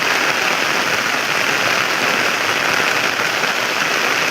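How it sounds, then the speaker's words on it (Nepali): Heavy rain pours down in a dense, constant roar of drops on surfaces, loud and close, with no pauses and no voices. "पानी डह्रो परिरहेछ।"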